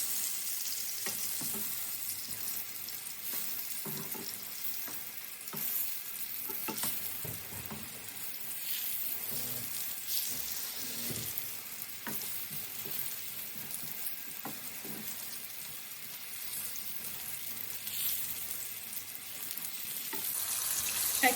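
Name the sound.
aubergine slices frying in a pan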